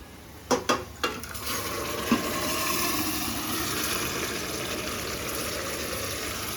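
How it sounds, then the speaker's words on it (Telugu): Mutton and its cooking water go into a pot for mutton pulao: a few sharp clanks of metal, then a sustained close sizzling, watery rush. "ఇప్పుడు ఈ మటన్ని ఇందులో వేయాలి"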